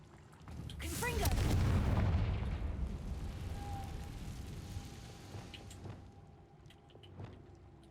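A Confringo fire spell explodes in the video game Hogwarts Legacy, a loud booming blast that swells and then rumbles off over several seconds. A few faint clicks and game effects follow.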